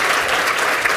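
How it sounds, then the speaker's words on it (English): A live audience at an economics night course applauds steadily, a dense wash of clapping from many hands that holds at an even level for about a second with no voices over it. "I'd love to give everyone a round of applause and Pete."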